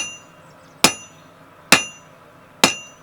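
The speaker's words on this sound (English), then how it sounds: "Now I'm using my flat die to blend the taper in." Three sharp, ringing strikes, evenly spaced about a second apart and close by, as a hammer beats hot steel on a flat die while forging a drift; each blow decays quickly into quiet.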